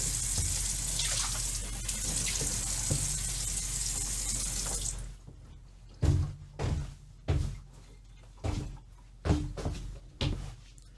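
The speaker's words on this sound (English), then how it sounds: "I rinsed it off in tap water" Tap water runs steadily into a sink while glassware is rinsed for a chemistry battery experiment, then stops, leaving a series of sharp knocks and clunks of glass being handled and set down at close range.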